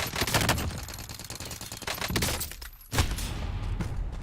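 Gunfire in a shooter video game: rapid bursts of automatic fire, loud and close, briefly thinning before another sharp volley resumes, with no talking.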